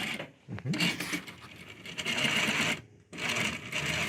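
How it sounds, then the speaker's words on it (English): A Juki DDL-5550N industrial sewing machine stitches in fast, steady bursts while its bobbin winder runs, with a brief pause near the start and a short stop before the motor resumes, close and loud with no talk. "as I start stitching through, I can see my bobbin winding, getting ready for the next run"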